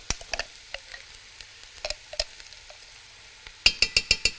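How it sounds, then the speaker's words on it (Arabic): Onion, garlic and ginger fry and get stirred in oil for a freekeh tagine with chicken masala, heard as quiet sizzling broken by sharp utensil taps and scrapes, ending in a quick run of six loud knocks. "بحب ترميله البصله في الاكله دي، حلوه تبقى مرمله"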